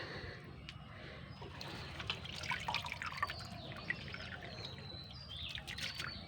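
Freshly caught pond shrimp and small fish being washed by hand in water, soft splashes and trickling drips over a low background hum, with faint birdsong nearby.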